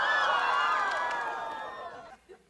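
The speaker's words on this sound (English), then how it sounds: "Any hint at Maya and Josh being together is met with deafening applause by the audience." A studio audience at a Girl Meets World taping erupts in loud cheering and high whoops that fade over a couple of seconds into quieter crowd noise.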